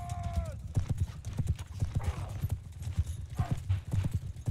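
Horses gallop in the game Mount & Blade II: Bannerlord, a rapid, steady clip-clop of hooves running close and fairly loud for several seconds, with a brief tonal call at the start.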